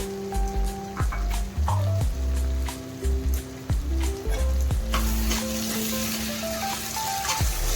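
Capsicum fry sizzles in a pan as coriander powder and chili powder are stirred in, with a constant frying hiss and repeated scraping stir strokes over steady tonal background music.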